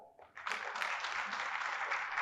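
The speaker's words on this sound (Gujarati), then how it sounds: "એક આ ભૂમિ માટે જોરદાર તાળીઓ" An audience at a Gujarati poetry event in Godhra breaks into loud, sustained applause honoring the land of Mahisagar. The clapping starts after a brief pause and holds steady and dense to the end.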